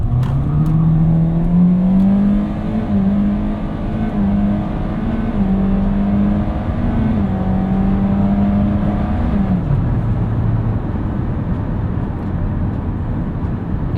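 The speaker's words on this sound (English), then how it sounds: "Let's do an acceleration here, guys." A 2022 Hyundai Kona SE with an IVT transmission accelerates hard in sport mode, heard from inside the cabin: engine pitch climbs in stepped shifts, then drops after about nine seconds to a steady road rumble, loud and continuous without speech.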